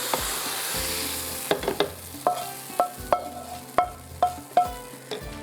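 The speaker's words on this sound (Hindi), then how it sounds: "जो मेरे पास राइस है बल्कि इसके अंदर ही डालती हूँ और मिक्स कर दूँ।" Rice being mixed with green onion and cabbage in a pan: a soft sizzle, then a series of sharp, regular scraping and clanking strokes of the spatula against the pan, close and distinct, with no voices.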